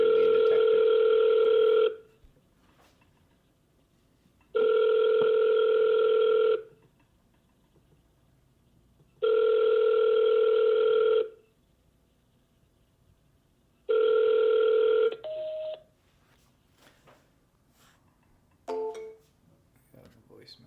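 A telephone call rings repeatedly through to voicemail: four long, evenly spaced electronic ring tones, each about two seconds long with quiet gaps, followed by a brief beep and faint trailing tones.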